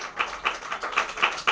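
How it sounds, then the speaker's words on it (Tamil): A church congregation claps together in a steady, even rhythm, about six sharp claps in quick succession, fairly close and clear with no talking over them. "அவருக்கு கைத்தட்டல் போடலாங்க தெய்வத்துக்கு"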